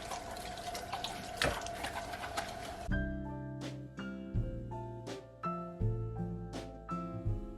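A kitchen faucet at low water pressure runs in a steady rush while dishes are washed, followed by a few seconds of ringing, clinking tones.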